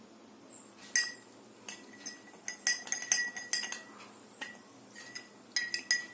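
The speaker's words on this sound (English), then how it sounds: "Stir the salt properly." Light clinks of a spoon against a glass of salt water while stirring, irregular and fairly close, with quiet pauses between bursts of tapping.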